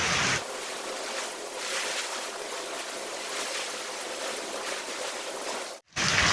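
Heavy rain pours steadily in a continuous hiss, loud and unbroken for several seconds with a brief dropout near the end.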